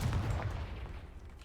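A Confringo spell in a Hogwarts video game lands as a short, heavy fiery blast, a booming low burst that quickly fades away.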